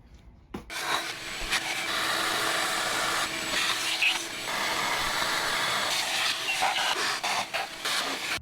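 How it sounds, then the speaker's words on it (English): Shop vacuum roaring steadily while sucking corroded debris and old foam bits out of an AMG M156 V8 intake manifold, starting with a sharp click, then a continuous loud rushing hiss broken by rattling pickups and scraping near the nozzle. "Get a vacuum, big vacuum like that."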